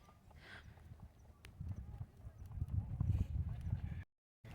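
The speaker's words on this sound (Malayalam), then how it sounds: "ഇതുണ്ട് ഗായ്സ്, ഒരാട് ഇങ്ങനെ പോകുന്നത്." A goat walks past on a rocky path through a narrow mountain gorge, its hooves clicking and clattering irregularly on stone, faint and fairly distant, with quiet talk nearby.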